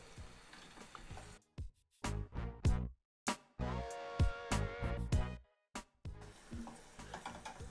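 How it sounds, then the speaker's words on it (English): Eba being mashed with the flat side of a spatula against a saucepan: a series of close, irregular scraping and thudding strokes with brief pauses between them, no talking. "I'm going to use the flatter side of the spatula to mash the EBA against the saucepan so we can get an even consistency"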